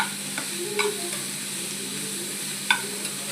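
Ivy gourd pieces being stirred and fried in a pan as a curry, a faint steady sizzle with light scattered clinks and scrapes from stirring, no talking.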